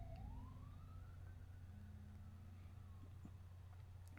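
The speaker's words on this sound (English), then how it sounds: "I don't know if you can hear the sirens in the background." A distant siren wails in a slow rising sweep, faint against a steady low hum, with no one talking.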